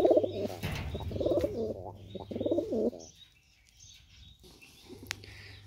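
Pigeons at a pigeon sale in Delhi coo in soft, throaty phrases nearby, joined by a few faint chirps and light background noise.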